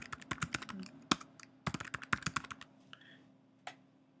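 Close clicking of keys on a computer keyboard as a new password is typed, irregular bursts of quick taps with short pauses and a few louder keystrokes.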